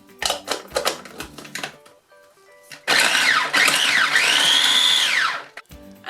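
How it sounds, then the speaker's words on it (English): Food processor blitzing carrot and courgette for healthy burgers: several short pulsed bursts, a pause, then a loud continuous whirring run of a few seconds with shifting pitch as the vegetables break down. "you could chop them into small pieces and then blitz them as well"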